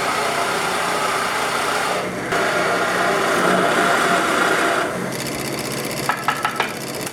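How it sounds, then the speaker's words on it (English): A Forstner bit bores a hole through small exotic-wood scraps held together with carpet tape. The drill gives a loud, steady whirring grind, then settles into a lighter whine followed by a few short taps. "I'll drill this hole through there."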